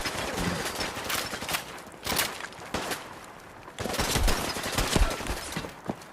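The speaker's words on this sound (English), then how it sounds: "Hey, stop shooting Ted." Gunfire in Fallout 4, with bursts of rapid shots in uneven clusters, some loud and close and some farther off, continuing through most of the stretch.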